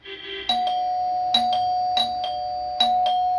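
An electronic apartment door buzzer rings out repeatedly, bright ding-dong tones repeating at a steady pace, close and clear with a sustained hum underneath.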